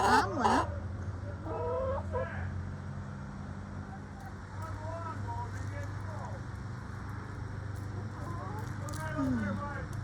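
Chickens clucking and murmuring in short, wavering calls, with one loud squawk near the start and softer clucks scattered over a steady low hum, close by.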